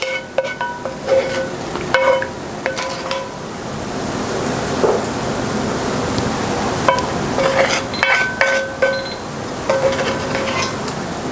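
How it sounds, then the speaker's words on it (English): A spoon scrapes and taps in a pan while sauce is spooned over pan-seared mahi mahi, with soft sizzling underneath and a series of bright clinks recurring close by, no talk. "While that is cooking, I will spoon the sauce over the fish."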